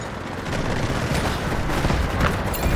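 Heavy gunfire in the video game Delta Force: a dense, continuous roar of close shots, with the burst growing louder after the first half-second and holding steady to the end.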